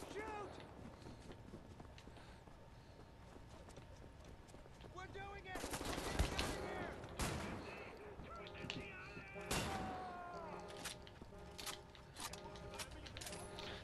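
Shotgun fire in the first-person shooter Wolfenstein: The New Order: a few loud, sharp blasts cluster in the middle of the clip, ringing over a busy bed of game sounds and music.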